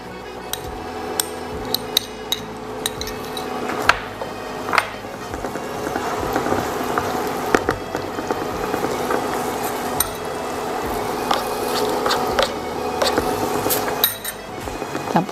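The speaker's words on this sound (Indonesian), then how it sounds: "Kita tumis bawang putih." Garlic sautéing in melted fat in a pan, a steady broadband sizzle running throughout with frequent sharp clinks of a utensil against the pan and no talking.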